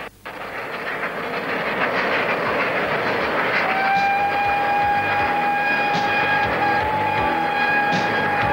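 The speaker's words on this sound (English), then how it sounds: "Pendennis alone now takes the train across the Swan River at Fremantle to the Leighton Yards." Pendennis Castle steam locomotive hauls its train across the Swan River bridge at Fremantle, a loud rolling rumble of wheels with rhythmic clatter, joined midway by a sustained steady whistle tone.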